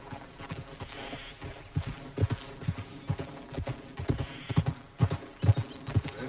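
Horse hooves clip-clop in steady, uneven beats in Red Dead Redemption 2, moderately loud and close, with a faint whinny and a low game soundscape underneath.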